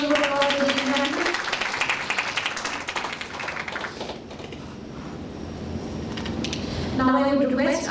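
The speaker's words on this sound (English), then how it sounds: "Huge round of applause, ladies and gentlemen" Clapping from a conference audience at an institute of management and technology, a dense patter of many hands rising between bursts of a voice over the PA, then swelling again at the end.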